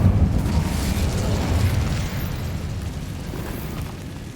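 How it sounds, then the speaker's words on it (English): Incendio fire spell cast in the Hogwarts Legacy video game, a loud, sustained roaring blast of flame with a heavy low rumble that holds steady for several seconds and slowly eases off. "Incendio."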